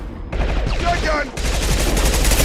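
Heavy gunfire in the video game Mass Effect 2, loud, continuous bursts of rapid shots layered with other combat noise, filling the whole moment.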